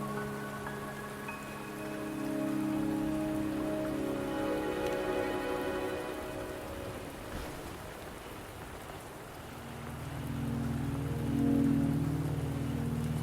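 Steady rain patters in Wuthering Waves, a continuous soft hiss of drops under tonal game music and a low rumble, with no speech.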